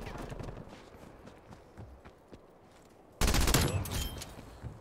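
Sudden burst of rapid gunfire in Call of Duty Cold War hardcore multiplayer, loud and close after a stretch of quieter footsteps and game ambience.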